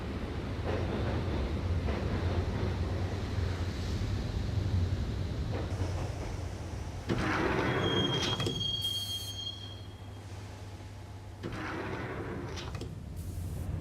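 A subway train in the video game Max Payne rattling along the tracks with a steady low rumble, surging louder midway and squealing its wheels on the rails, with no voices.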